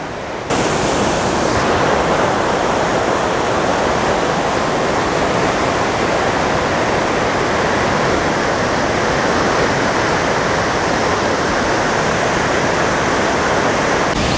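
Great Falls on the Potomac River, in Chesapeake & Ohio Canal Park, gives off a loud, steady, unbroken roar of crashing water that lasts from start to finish with no voices.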